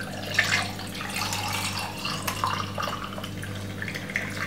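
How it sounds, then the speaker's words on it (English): Fresh plum juice is poured into a glass in a home kitchen, a quiet, continuous trickle of liquid with a few soft splashes. "And just simple pour this inside of it like this."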